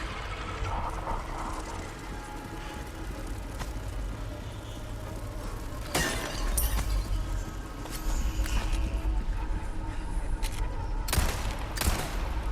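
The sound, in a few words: gunshots in Resident Evil 4 video game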